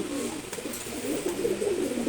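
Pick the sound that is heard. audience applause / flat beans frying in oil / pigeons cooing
pigeons cooing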